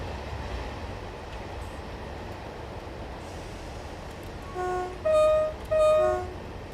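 A train on the Midland Main Line in Train Simulator rolls into a station with a steady low rumble, then sounds two loud, clear horn blasts near the end.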